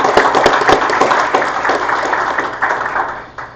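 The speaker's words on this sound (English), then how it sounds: "We'll give him a round of applause now." Applause from the audience at a school board of education meeting, a dense wash of clapping that stays steady and fairly loud throughout before tapering off at the very end.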